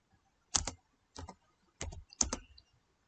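Four short bursts of rapid keystrokes on a computer keyboard while typing into Windows search, crisp close clicks separated by brief silences.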